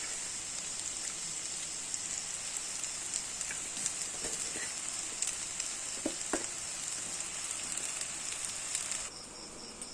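Boiled pasta fries in a pan with already fried ingredients, a faint continuous hiss and crackle with occasional small taps, ending in a quieter tail.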